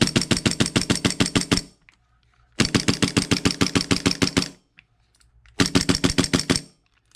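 An ICS BLE ICP airsoft pistol fires three rapid full-auto bursts of about a dozen sharp clacking shots each, separated by short pauses, loud and close.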